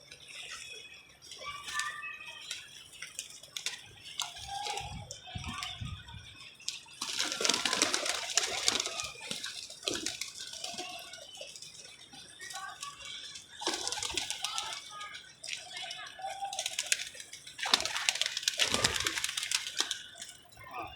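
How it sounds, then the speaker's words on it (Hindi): Pigeons on a rooftop loft coo softly in scattered bursts amid rustling and intermittent background noise, fairly faint and close, with no talk. "ये मेरे पीछे का ना जोड़े वाला कबूतर है"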